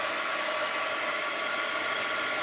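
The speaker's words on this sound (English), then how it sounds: "you want to be careful when you heat gun the pages before and after" A heat gun blows steadily over journal pages to dry paint and melt wax, a constant loud whooshing hiss of hot air with a fan whine, close and unbroken, no speech.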